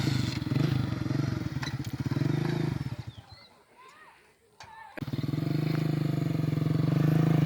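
A motorcycle with a mechanical problem on a hilly road in Khyber Pakhtunkhwa, Pakistan, runs with a loud, steady engine drone. The drone drops away for a couple of seconds in the middle, then returns just as strong.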